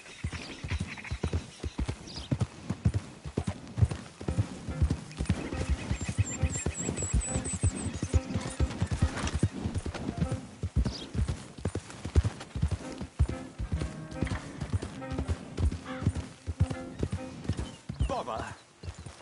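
Horse hooves clip-clop at a steady walking rhythm in a PS4 video game, continuous and fairly close, with voices talking over them and a brief whinny.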